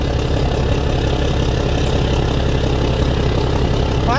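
A K19 diesel boat engine idles at close range, a loud, steady low rumble that runs unbroken from start to finish with no talk over it.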